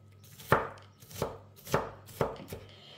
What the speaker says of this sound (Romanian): Le tăiem așa mărunt